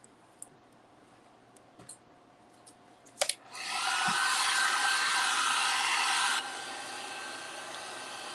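A hair dryer clicks on and runs with a steady loud whoosh, then its pitch drops slightly as it keeps blowing over a wet Easter craft, after a few quiet taps and handling clicks.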